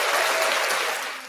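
Brief burst of applause from a crowd at a youth football game, dense clapping that fades slightly toward the end.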